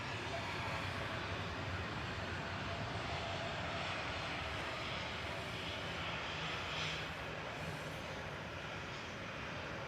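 An airliner begins its takeoff roll on runway 23 left at Manchester Airport, heard as a faint, distant, continuous engine roar with a wide, even rush and no break.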